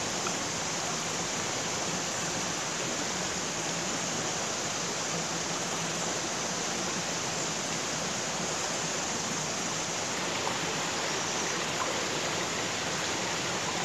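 A mountain stream flows along a trail near the nine-tier Đa Mi waterfall in Bình Thuận. The constant rushing water is a dense, even roar that stays steady throughout.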